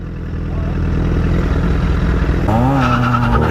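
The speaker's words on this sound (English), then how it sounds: "Do like a burnout." A car does a burnout, its engine revving loudly and continuously while the tires screech in a rising, wavering squeal that grows sharper toward the end, close and loud.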